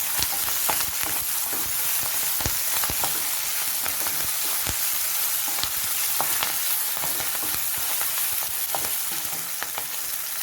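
Marinated prawns coated in ginger garlic paste fry in hot oil for a Guntur-style prawn curry, giving a steady close sizzle with frequent small crackles and pops throughout and no speech.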